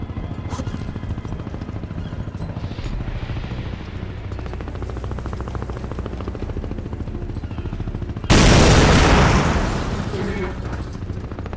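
An old cannon in the video game Crysis 2 fires at a guard: one loud, sudden boom that rings out and slowly fades over a steady bed of in-game background noise.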